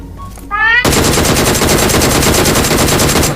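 Rapid automatic gunfire in the PUBG Mobile video game, a loud, sustained burst of evenly spaced shots that erupts after a brief electronic tone and runs without pause to the end.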